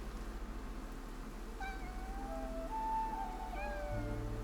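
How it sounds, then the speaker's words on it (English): A cat meows several times in short rising and falling cries, fairly close and clear over a low steady hum and soft background noise, with no talking. "There's a kitty."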